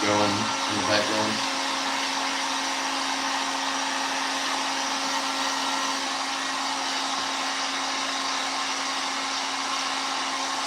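A heat gun blows with a loud, steady whooshing whine and a constant hum, running continuously after a brief voice at the start.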